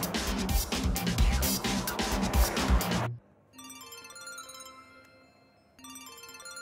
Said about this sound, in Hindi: ये मुझे क्यों फोन कर रहा है?